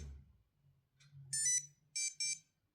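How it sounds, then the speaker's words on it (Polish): An alarm buzzes on a Nintendo Super Mario Bros. 3 Game & Watch handheld, sounding as three short, bright electronic beeps after a faint low hum. "Udało się uzyskać dźwięk poprzez ustawienie alarmu i tutaj już sobie to buczy."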